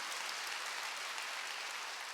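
A church congregation at a Korean Wednesday worship service applauds in a dense, steady burst of clapping that fills the room evenly from start to end, with no talk over it.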